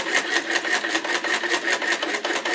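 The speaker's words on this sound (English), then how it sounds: "We'll just stitch away happily until my arm falls off." A hand crank sewing machine stitches steadily, its rapid rhythmic clatter close and continuous with an even mechanical pulse throughout.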